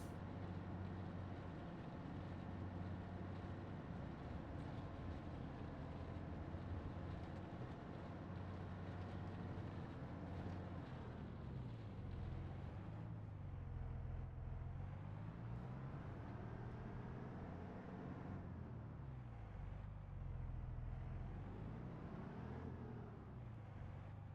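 A tractor engine runs in the video game Farming Simulator with a steady low rumbling drone, its pitch rising and falling as the load and revs shift.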